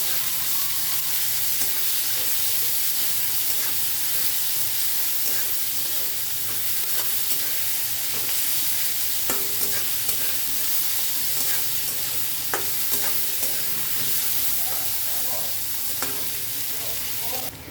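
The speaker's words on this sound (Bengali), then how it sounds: "ভালো করে পেঁয়াজটাকে আমি ভেজে নেব" Two finely chopped medium onions fry in a pan, giving a steady, close sizzle with occasional stirring scrapes throughout.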